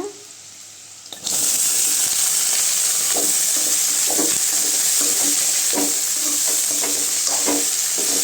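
Shredded cabbage and carrot for a poriyal drop into a hot pan of sautéed onions and start a loud, steady sizzle, broken by repeated scraping clinks of a spatula stirring close by, with no talking.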